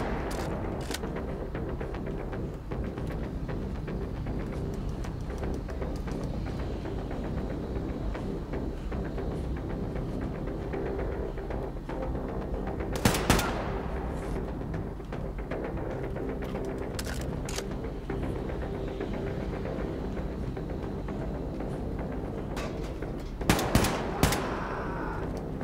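Continuous gunfire in Wolfenstein II, a dense steady barrage of automatic shots with a few louder bursts standing out along the way, no talk.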